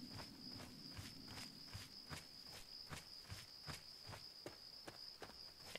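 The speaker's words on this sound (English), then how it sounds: "Can you hear the crickets?" Crickets chirp steadily in the Fallout 3 wasteland, a continuous high trill pulsing in an even rhythm with soft footsteps crunching underneath throughout.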